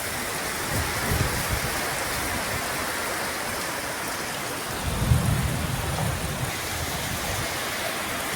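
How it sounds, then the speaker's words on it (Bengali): Steady heavy rain hisses continuously during a windy village storm while low rumbles of thunder roll in twice, once faint and once stronger, in the distance. "আবার মেঘের গর্জন"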